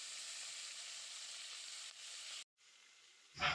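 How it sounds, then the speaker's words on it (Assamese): Fish coated with salt and turmeric sizzles while frying in hot oil, a steady, loud hissing crackle that drops out briefly before resuming near the end. "মাছখিনি নিমখ হালধি দি সানি ফ্ৰাই কৰি আছোঁ"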